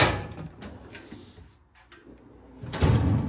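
A drawer in a garage cabinet is pulled open with a sliding rumble and a knock at the start, then another thud near the end.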